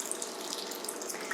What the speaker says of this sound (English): if you keep the water flowing here